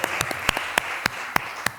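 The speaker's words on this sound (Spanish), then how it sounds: "Ese comentario merece un aplauso también." Scattered, sparse claps from a small audience at a literary talk, a handful of distinct sharp hand claps spaced irregularly over a soft background hiss.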